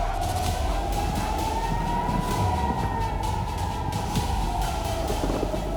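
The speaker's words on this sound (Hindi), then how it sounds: "सायरन की आवाज आप सुन सकते हो।" A loud siren wails continuously, its tone slowly rising and falling over a steady low rumble, with no voices.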